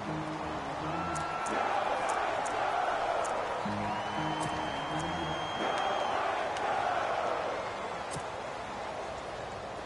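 Stadium crowd noise in a football video game on PS4, a steady roar swelling around a big third down, with scattered whistles and cheers rising and falling under a commentator's voice.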